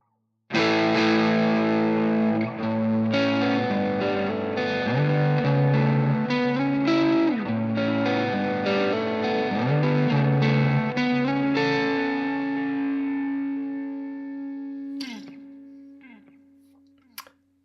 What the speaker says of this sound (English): preset 1 on bank 1, which is an AC30 sort of sound